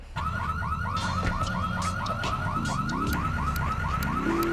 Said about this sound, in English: most of the time, there is an alarm on this car.